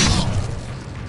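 An Incendio fire spell is cast in Hogwarts Legacy, a short, loud burst that bursts up right away and then tails off into a low rumbling decay within about a second.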